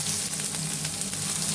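Onions and green chilies frying in hot oil with cumin and mustard seeds, a dense continuous sizzle and hiss held close and loud.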